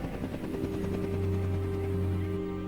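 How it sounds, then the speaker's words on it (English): Steady rotor drone of transport helicopters flying nearby, a continuous low throbbing hum with no talking. "transport helicopters here"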